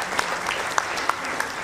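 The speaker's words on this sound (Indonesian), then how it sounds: "Tepuk tangan untuk kita semuanya" Applause from an audience at a talk, a steady wash of clapping with a few sharper claps standing out, moderately loud and continuous across the short stretch.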